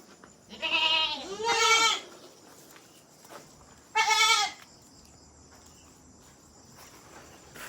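Three loud, close goat bleats in a goat shed, two in quick succession and one after a pause, over a steady chirping of crickets.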